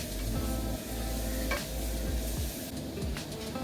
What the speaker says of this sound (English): Now I am going to give a little saute